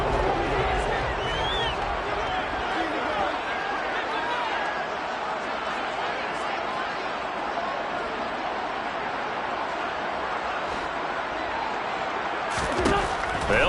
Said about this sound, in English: How about some applause for the defense there?